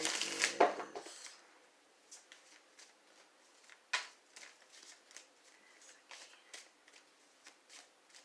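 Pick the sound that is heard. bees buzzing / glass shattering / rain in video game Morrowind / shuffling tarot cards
shuffling tarot cards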